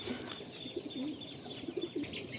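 Madrasi pigeons coo softly in a series of short, low, throaty calls close by, over a faint background hiss.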